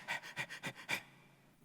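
A human voice imitates a panting dog with five quick, rhythmic breathy pants, close and fairly loud, then trailing into quiet.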